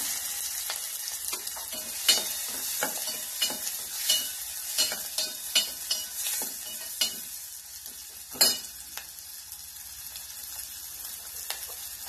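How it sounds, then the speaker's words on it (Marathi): Onion sizzling in hot oil with tempered cumin seeds in a home kitchen pan, a steady crackling fry punctuated by repeated scraping stirs and a sharper clatter near the end, no talking. "जिरे तडल्यानंतर याच्यामध्ये कांदा घालायचा।"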